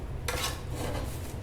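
Scraping and clinking as roasted root vegetables are stirred in a metal pan, a continuous rough stirring texture that starts abruptly and carries on steadily at close range.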